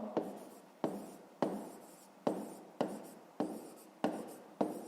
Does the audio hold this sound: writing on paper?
yes